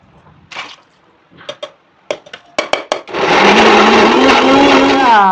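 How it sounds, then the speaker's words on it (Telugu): A few short clanks and taps, then a mixer grinder whirs up loudly and runs steadily, blending tomatoes with a continuous high-pitched roar. "మిగిలిన టమాటాలు కూడా అలా అలానే మిక్సీ పట్టుకోవాలండి"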